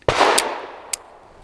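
A single loud, close Bersa TPR .380 pistol shot firing a Federal HST 99-grain round, a sharp crack with a short decaying ring, then a brief metallic click a moment later.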